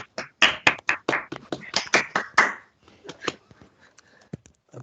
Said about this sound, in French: moi je vous applaudis